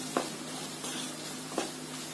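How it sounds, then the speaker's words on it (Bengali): Carrot strips cut long fry in a pan with a soft, steady sizzle, broken by a few brief stirring clinks, close and fairly quiet. "গাজরটাকে আগে একটু ভেজে নিতে হবে।"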